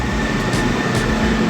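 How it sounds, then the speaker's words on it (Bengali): A metro train pulls into Howrah Maidan station, a steady loud rumble with a faint whine and a couple of brief hissing bursts, heard close on the platform with no voices. "হাওড়া ময়দান যাওয়ার ট্রেন ঢুকে গেল"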